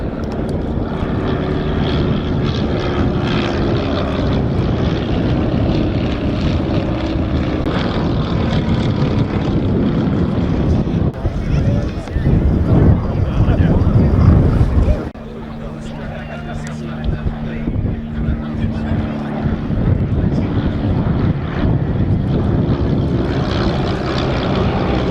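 A Desoutter propeller monoplane in a black and orange paint scheme flies past at a Shuttleworth air display, its engine drone loud and steady with a shift in pitch midway as it passes, while a commentator talks over it.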